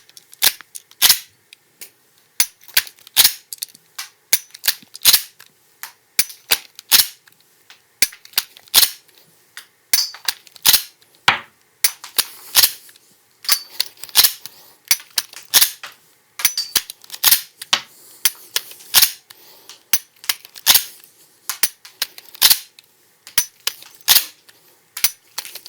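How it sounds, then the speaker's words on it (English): Glock 17 trigger pulls on training rounds, the firing pin snapping free again and again, sharp close clicks and clacks in an irregular run broken by short handling pauses, with no talk. "pull the trigger, and each time after we pull the trigger and the firing pin is released, we are going to extract one training round"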